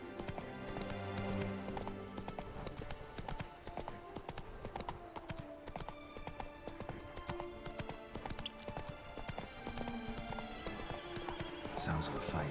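Roach the horse gallops in The Witcher 3, with steady rapid hoofbeats close by for the whole stretch, a whinny rising partway through, and game sounds and a voice mixed in.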